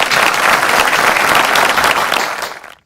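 An audience applauds at the finale of an international Indian culture celebration: loud, dense clapping held steady for over two seconds, then fading quickly to silence.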